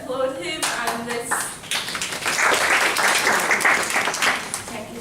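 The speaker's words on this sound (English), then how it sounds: "Just applaud him" Attendees at a Technical English for Engineers seminar break into applause, a few scattered claps building into full, dense clapping from the room, with voices heard briefly at the start and end.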